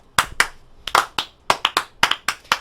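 Slow, deliberate hand claps from a small group of podcast hosts, about a dozen sharp close claps spaced irregularly and gradually quickening, with no talking over them.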